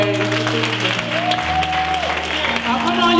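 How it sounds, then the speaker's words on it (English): A congregation claps hands in a church service, a broad steady clatter of applause that lasts throughout, mixed with sustained music and voices. "give the Lord a hand clap of"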